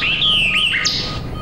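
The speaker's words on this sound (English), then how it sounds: "Here are my bird songs for study," A recorded bird song plays back as a quick series of bright, clear chirps and sliding whistled notes, close and loud, lasting only a moment.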